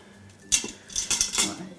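A metal rack set down inside an Instant Pot pressure cooker over onions, giving a sharp clink followed by a few quieter metallic rattles and taps, close and alone.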